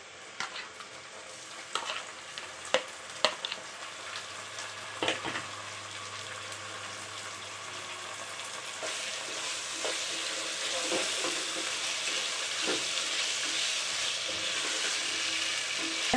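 Chopped chicken fries in a pan for fried rice, a few sharp clinks and stirring scrapes at first, then a steady, growing sizzle that fills the rest of the stretch.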